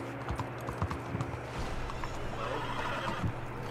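In Red Dead Redemption 2, a horse whinnies near the start while hooves clip-clop steadily beside it, close and moderately loud over a low ambient game background.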